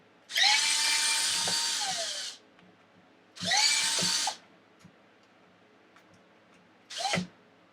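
A power drill drives long screws into an Arrma Limitless RC car in three close, loud whirring bursts. Each burst ramps up, runs steadily, then winds down, with short gaps and light handling noises between them.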